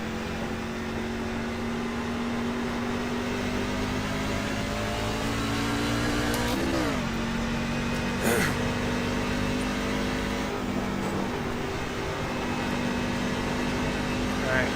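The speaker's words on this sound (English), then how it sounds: "There's a car approaching." A car approaches in a racing video game, its engine a steady tonal drone that bends in pitch as it nears. A brief whoosh passes partway through, and radio-style voices talk over the top.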